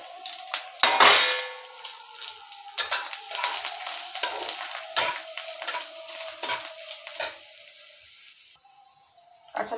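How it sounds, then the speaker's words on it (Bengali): Grated coconut frying in hot oil in a wok along with black cumin seeds, a steady close sizzle broken by repeated scraping and clinking of a spatula stirring against the pan. "নারকেলটা একটু ভেজে দিচ্ছি"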